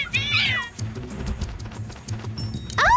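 A cartoon cat-bat mutant lets out loud, close meows that wail at the start and again at the end, over a busy background of animated noise.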